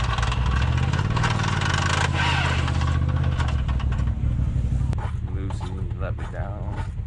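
Car engine with a failing transmission slipping gears, a loud steady drone that rises and falls unevenly, heard from inside the cabin while people talk over it.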